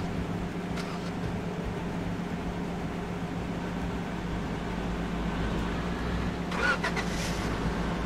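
A car engine idles and rumbles in the Roblox game Lumber Tycoon 2, a steady low drone throughout, with a brief burst of mechanical clatter near the end.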